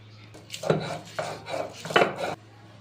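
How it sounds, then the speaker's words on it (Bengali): Yardlong beans are crushed on a flat grinding stone for a shrimp bhorta with three or four rough grinding strokes close by. Each stroke is a scraping rub, and a low steady hum sits underneath. "এখন আমি বরবটিটাকে পাটায় বেটে নিচ্ছি"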